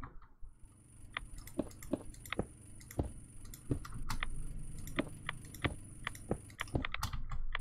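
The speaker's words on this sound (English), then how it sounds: "you can hear a little bit of clicking from knowing that the fission reactor is radioactive" Quiet, irregular clicks from a radioactive fission reactor in Minecraft Enigmatica 2 Expert, sharp ticks scattered at an uneven rhythm over a faint steady background hum, with no talking.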